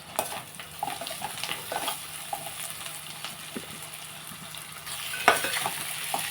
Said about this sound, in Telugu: మనం ఇలా కలిపేస్తున్నాం ఒక నిమిషం కలిపేస్తున్నాం